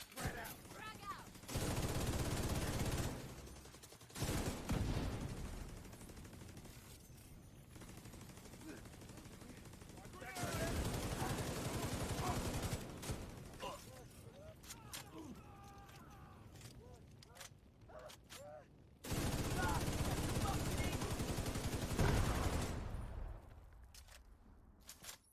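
Bursts of automatic gunfire from The Division 2 video game, with long rattling volleys separated by quieter gaps holding clicks and creaks, loud and close throughout.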